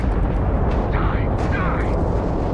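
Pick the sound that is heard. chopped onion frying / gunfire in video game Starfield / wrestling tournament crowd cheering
gunfire in video game Starfield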